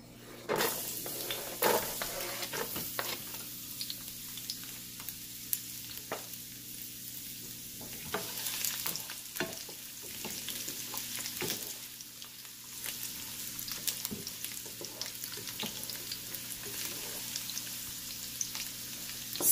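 Chopped garlic with spices sautéing in a Ninja Foodi, a faint steady sizzle with occasional soft scrapes and taps of a spoon against the pot, quiet and continuous, no voices.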